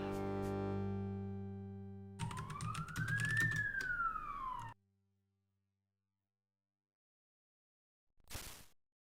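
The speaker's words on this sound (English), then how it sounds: "Sorry for the sirens going off in the background." Police sirens wail from a game, a rising and falling electronic tone lasting a couple of seconds after a sustained chord, followed by silence and a brief burst of noise.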